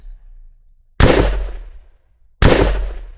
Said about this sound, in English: So I have provided different animation and different gunshot effects.